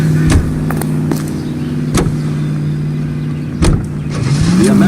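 A 1940s-style car engine in L.A. Noire drones steadily while driving, loud and close, with a few thumps and a rise in revs toward the end.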